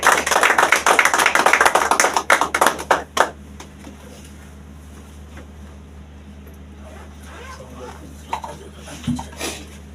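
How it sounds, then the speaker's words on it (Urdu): Enthusiastic applause from a church congregation following a sermon, dense clapping for about three seconds before cutting off sharply, leaving quiet room tone with a few faint scattered sounds. "خداوند کے بندہ کے لیے جو اس نے آج کلام سنایا، زوردار تالیاں"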